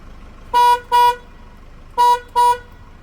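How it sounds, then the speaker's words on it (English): A VanUp modified horn on a Mercedes-Benz Sprinter 3500XD van honks in two pairs of short, loud, bright toots, with a brief pause between the pairs and no talk. "Let's see what this horn sounds like with VanUp."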